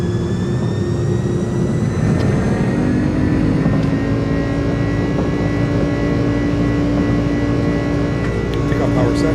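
iniBuilds A300 jet engines spooling up to takeoff power in Microsoft Flight Simulator, a loud steady roar with rising whine tones that holds throughout, with talk over it.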